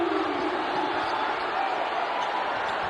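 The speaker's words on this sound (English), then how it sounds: "And listen to this crowd roar." An arena crowd at a men's basketball game roars after a breakaway dunk, a dense, loud, steady wall of cheering and shouting that continues throughout.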